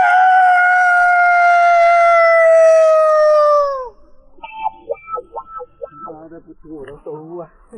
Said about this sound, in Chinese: 我这个鸡公叫的这么厉害。